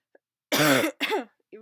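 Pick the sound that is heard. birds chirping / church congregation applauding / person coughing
person coughing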